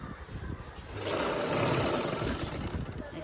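An electric sewing machine stitches through stiff buckram fabric, running in a steady, fast mechanical whir that builds in speed and holds close and loud, with no talk.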